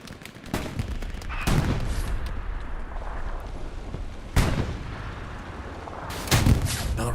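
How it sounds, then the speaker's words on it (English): Rocket fire and heavy explosions in the Hell Let Loose video game on the Utah Beach map: several loud, sharp blasts over a continuous roar of distant gunfire and rumbling battlefield noise. "gets one rocket into the rears"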